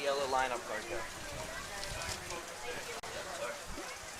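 Rain falls at a Delaware Little League Majors state championship baseball field, a steady broadband hiss and patter with people talking over it.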